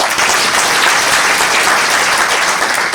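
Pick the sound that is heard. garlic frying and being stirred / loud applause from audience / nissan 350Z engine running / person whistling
loud applause from audience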